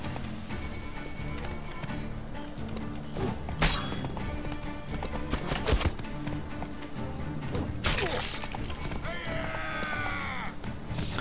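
Horse hooves clip-clop steadily in The Witcher 3, layered with game music and ambient sounds, with a few louder thumps and a brief swooping effect near the end.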